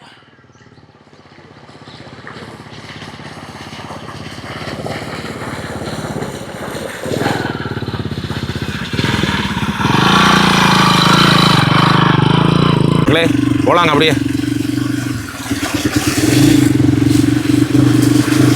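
A motorbike rides along a forest road through a Western Ghats village area in Attappadi, its engine running steadily and growing louder and nearer, with birds chirping faintly and someone talking over it.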